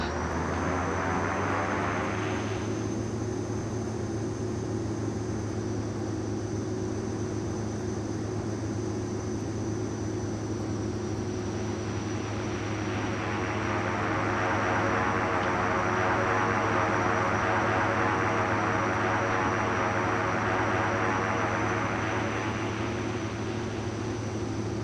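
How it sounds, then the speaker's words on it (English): Aircraft engine drone in the X-Plane 11 flight simulator game, a steady loud propeller-engine hum with constant tonal whine that swells in pitch and intensity midway, continuous and alone. "Sounds good, this aircraft."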